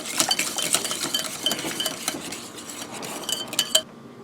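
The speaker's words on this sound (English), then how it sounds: "Whisk that up." A whisk beating milk into muffin batter containing baking powder, fast clinking strokes against the bowl that carry on steadily and then stop abruptly.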